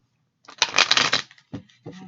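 A deck of tarot cards is riffled in one brisk, crisp burst, followed by two short, softer shuffling taps, close by in a quiet room.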